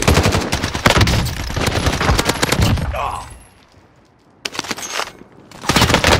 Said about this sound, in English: This kid's shooting.